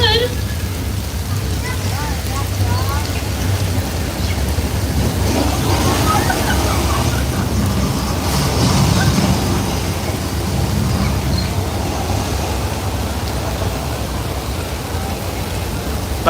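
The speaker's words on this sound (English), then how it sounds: "a sprinkler system. This way we can control where the water is happening" Artificial rain from a sprinkler system falls on a Universal Studios Hollywood backlot set, a steady broadband hiss of spray and splashing that runs throughout, with people talking over it.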